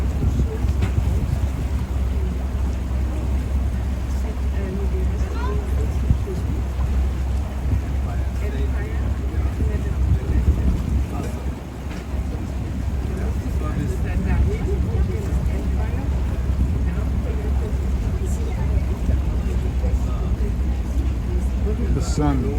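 Venice water bus cruising along the Grand Canal, a steady low engine rumble under heavy wind buffeting on the microphone, with people talking faintly throughout.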